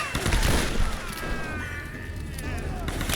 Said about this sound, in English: There's a couple of guys shooting